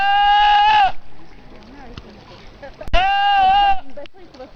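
A voice imitates a goat with two long, loud, nasal bleats separated by a pause, each with a wavering, quavering pitch, heard up close with no other sound behind them.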